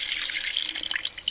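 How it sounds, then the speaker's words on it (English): Water is poured into a container during a scrap gold refining step, a short bright splashing trickle that sounds close and steady before it breaks into a few drips. "Just gonna throw some water in there."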